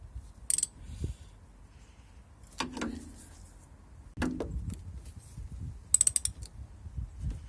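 A hand ratchet clicks in short bursts as a brake line union is tightened during a new brake caliper fit on a Toyota Avensis diesel, with a few metallic clinks and jangles nearby.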